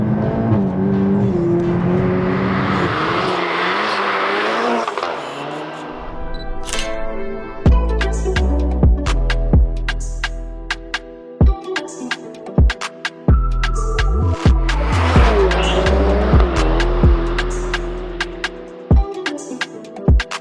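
A tuned Mark 8 Golf GTI Clubsport revving hard under throttle, its engine note climbing and falling in loud repeated surges with sharp pops and crackles, close and dominant with no talking.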